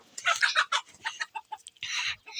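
Chickens cluck in a garden coop, with a quick run of close, loud, sharp clucks and squawks that come in short bursts with brief gaps between them.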